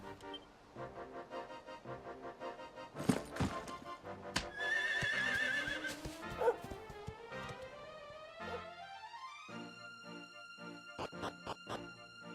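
Horse neighing and hooves clip-clopping in the video game Dragon Quest XI, a whinny rising over galloping hoofbeats and game music, with no talk.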